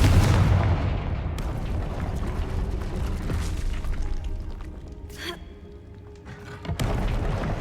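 A Confringo explosion spell goes off in Hogwarts Legacy, opening with a heavy booming blast that decays into rumbling debris, followed by sharper magical zaps and a second thump near the end.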